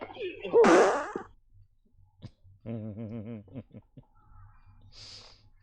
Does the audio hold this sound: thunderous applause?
no